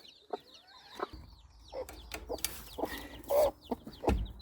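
Newly hatched Moran Bantam and Silkie chicks give scattered high, thin peeps at close range, mixed with soft rustles and a few low bumps and shuffles.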